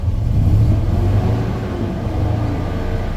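A 2008 Ford F-350 utility bed truck engine runs at raised revs, a steady loud low rumble with a slight swell early on, heard close with no talk.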